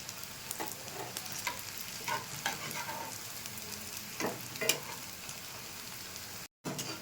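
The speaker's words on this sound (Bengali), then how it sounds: "লো হিটে আমি উল্টে পাল্টে ভেজে নিচ্ছি।" Pakoda fries on low heat with a steady sizzle while a utensil scrapes and taps as the pieces are turned. The sound stays moderate and close, then cuts out briefly near the end.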